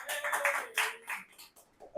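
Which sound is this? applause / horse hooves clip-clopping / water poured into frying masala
applause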